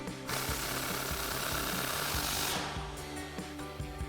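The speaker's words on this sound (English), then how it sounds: "we'll grab our impact and our 18mm socket and tighten that down" Impact wrench with an 18mm socket tightening a bolt on a Jeep Wrangler JL suspension lift, a continuous loud rapid hammering rattle lasting about three seconds, close by and alone.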